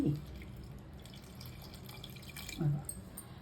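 Water pours into a raw banana mixture with salt and turmeric in it, giving soft splashing and dripping close by, quiet, with a slightly stronger splash near the end.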